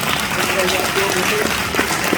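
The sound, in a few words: audience applause for a question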